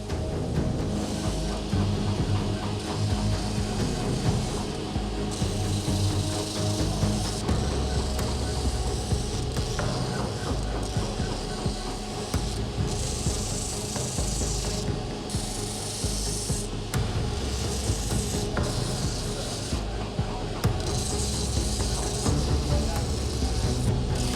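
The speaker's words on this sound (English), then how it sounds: "Matt now goes to the sander and roughs in the shape of this handle." A power sander roughs out the shape of a wooden sword handle for a Rose Quartz replica, a steady dense rasping grind running continuously and loud throughout, close up with no talk.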